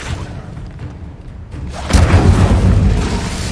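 Spell blasts from Confringo and Incendio in Hogwarts Legacy: a low rumbling background, then one heavy booming impact with a whoosh that rolls on loudly, no talking.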